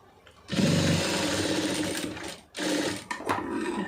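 A sewing machine runs at speed stitching piping onto fabric, with a loud close motor whir in one long burst, a short pause, then a second shorter run and a few quick stops.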